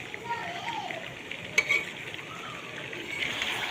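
Meat curry being stirred in a pan, a brief run of scraping and soft sizzling with a single sharp clink of a utensil, close and short.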